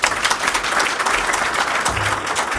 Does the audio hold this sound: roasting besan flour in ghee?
no